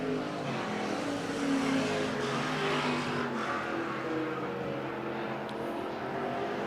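IMCA stock cars race down the back straightaway at USA Raceway, a steady, loud engine roar that holds without a break, with no one speaking.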